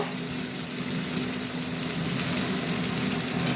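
Prawns frying in a pan: a steady, dense sizzle and crackle of hot oil that holds evenly throughout without pause.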